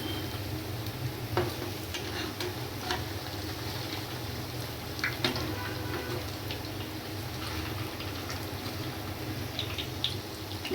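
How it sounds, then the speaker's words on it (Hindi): Sabudana vadas frying in hot oil in a pan and being turned one by one, a constant close sizzle broken by occasional light clicks and taps from the utensil. "अब देखिए जो नीचे की तरफ से फ्राई हो गए उनको धीरे से पलटना है"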